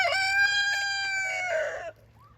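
Turkeys and chickens in a homestead garden, with one rooster-like crow ringing out loud and close for nearly two seconds, then a brief faint call.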